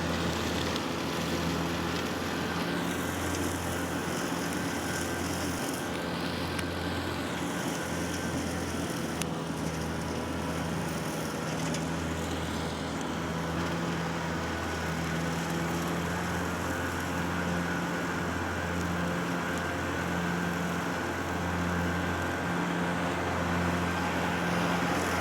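A Kubota L4060 tractor works under load pulling a RhinoAg TS10 flexwing mower through tall growth. Its diesel drone is loud and continuous, and the pitch sags and recovers slightly as the load shifts.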